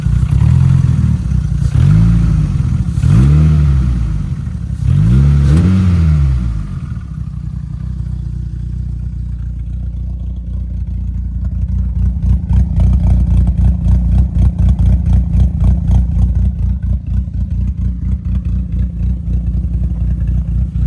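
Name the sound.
VW Cabrio ABA 2.0 engine with big cam revving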